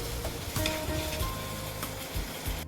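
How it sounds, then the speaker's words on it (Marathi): Sizzling vegetable mixture fries in hot oil for Indian bhaji while being stirred, a steady close crackle with scraping strokes of a spoon against the pan throughout, no talking. "आता तेलामध्ये याला छान परतून घेते"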